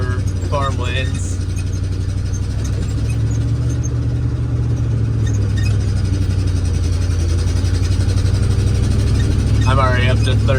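A 1968 IH Fleetstar 2010 truck pulls off slowly in underdrive along a farm lane hauling soybeans, its engine a steady, loud low drone throughout, with someone talking over it at moments.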